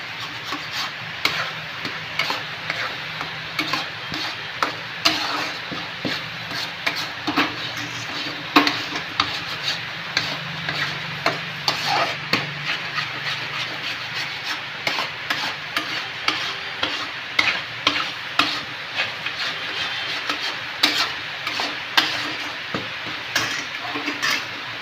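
Food being stirred and mixed in a pan on the stove, a steady scraping rhythm of spoon against metal over a soft continuous sizzle, close and moderately loud with no talking.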